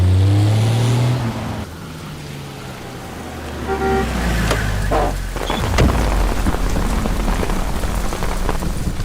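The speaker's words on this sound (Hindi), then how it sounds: "बारिश होने वाली है" Steady rain falling on surfaces, loud continuous patter close by with a low rumble and passing vehicle noise mixed in.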